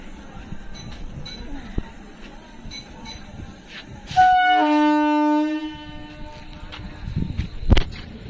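Train on a railway line near Shantipur, rumbling and clanking under ambient chatter, with a sustained loud horn blast midway and a sharp clank near the end.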